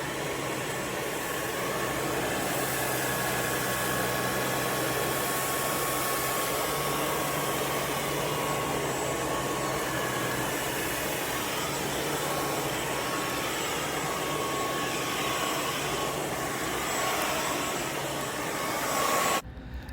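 A DSORUPA cordless sweeper runs with a steady, close whirring motor hum and broadband rush that holds level throughout, ending in a brief louder clunk at the very end.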